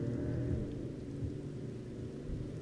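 Steady rain with a low rumble of thunder in Final Fantasy XV, a dense continuous wash of falling water under a deep roll, with no voices.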